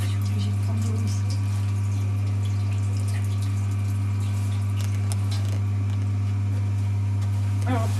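Tap water running in a French art workshop in Aulnay-sous-Bois, a continuous rushing flow over a strong low hum, with someone talking over it.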